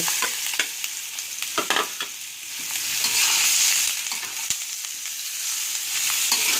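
Fish is stir-fried in curry paste for a Thai fish curry with pickled bamboo shoots, giving a loud, close, continuous sizzle broken by repeated scraping stirs of a spatula in the pan.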